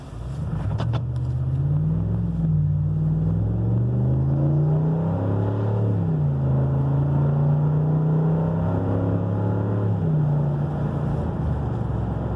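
Car engine with a DiabloSport Pulsar tune revving hard at full throttle, a loud steady drone with rising and falling pitch as the revs climb and ease back, continuous for the whole stretch with no talking.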